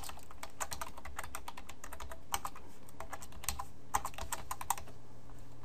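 Close, quiet keystrokes on a computer keyboard type a site title in quick irregular bursts with short pauses between, over a low steady room hum and no voices.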